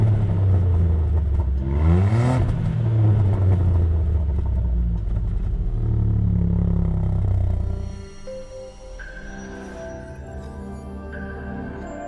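A Ford Puma ST hot SUV engine revs hard up close, a loud throaty roar climbing and falling, then dropping away to a quieter idle with faint whine.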